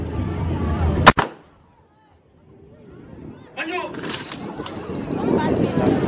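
One sharp, loud gunshot cracks out at a children's day military demonstration at the Air Force Base in Ubon Ratchathani, Thailand, followed by a brief hush and then crowd noise and someone talking.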